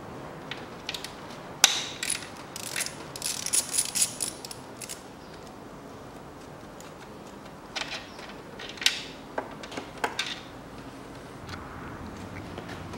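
Hex bolts being loosened on the engine of a 2006 Lexus GS300 with a 3GR-FSE V6 during a timing chain replacement, giving scattered metallic ratchet clicks and tool clatter in bursts over a quiet workshop background.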